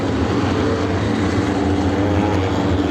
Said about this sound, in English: Beautiful sight, the four-wide parade lap for the NEMA Lights